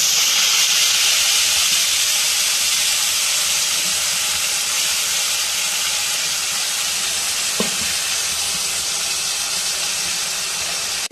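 Ginger, onion, garlic, dried chilli and tomato paste sizzles steadily in hot oil, a loud, continuous frying hiss close by with a brief stir near the end.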